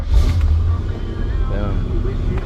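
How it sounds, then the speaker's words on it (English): A 1964 Chevrolet Corvette Coupe engine catching on a cold start, giving a loud low burst that settles into a steady rumbling idle, with a voice speaking over it. "Cold start. Put the key in it. Hit the gas twice. It fires up every time."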